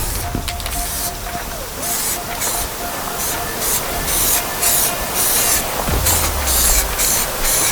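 Primer sprays onto a bare metal windshield frame in loud, close hissing bursts that stop and start repeatedly, with a low rumble underneath.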